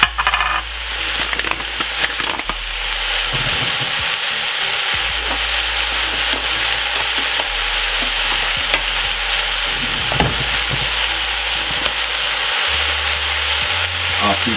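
Vegetables and mushrooms sizzle steadily in a hot pan for a vegan stir fry while a utensil scrapes and stirs through them, continuous loud frying with scattered clicks throughout.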